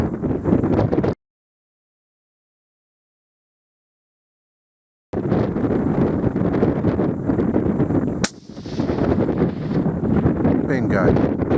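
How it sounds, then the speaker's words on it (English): Strong gusting crosswind of about 22 mph on a rifle range, roaring loudly and steadily into the microphone, cut by a few seconds of silence, then resuming with a brief sharp crack partway through. "There's the high wind"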